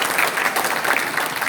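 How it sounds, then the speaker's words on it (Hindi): Dense, even applause rises from a crowd welcoming leaders at a political rally in Dadri, Haryana, a loud continuous patter of many hands. "इनका जोरदार तालियों से अभिनंदन स्वागत करते हैं।"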